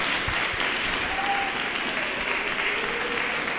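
A church congregation applauds, with steady crowd clapping filling the room and a faint voice briefly rising over it.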